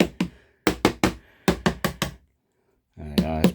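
Hard, hollow knocks ring out from a cured two-layer fiberglass layup over a 3D printed buck, struck in quick clusters of two and four sharp raps with silence between them.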